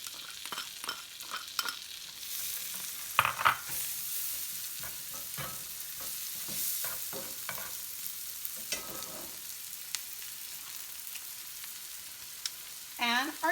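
Onion frying in a pan with melted butter for shrimp tacos gobernador, a soft sizzle broken by scraping stirs and clatter, fairly quiet and close.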